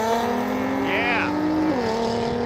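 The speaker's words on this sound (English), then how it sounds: "Look at that CRX go." A Honda CRX race car with an all-motor K20 engine accelerates hard in a half-mile shootout in Florida, its loud, close engine howl climbing steadily, then dropping at a gear change before pulling again.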